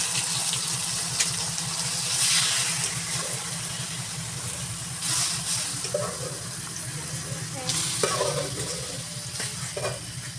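Squid sizzling in a pan for adobong pusit, with crackling frying noise, clinks of a utensil against the pan and stirring scrapes, the sizzle running steadily underneath.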